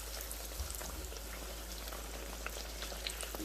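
Guyanese bake dough frying in a pan of hot oil, giving a steady, even bubbling sizzle with fine crackles throughout and no talking.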